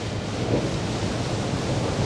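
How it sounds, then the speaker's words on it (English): Ocean surf waves breaking at a 1981 pro class surfing trials, a steady loud broadband wash with a rumbling low roll and no clear pauses, heard alone without commentary. "5 good, strong waves coming through there."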